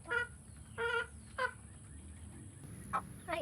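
Hens with their chicks cluck nearby in short, separate bursts over a low steady background hum, a few distinct calls spaced across a brief moment.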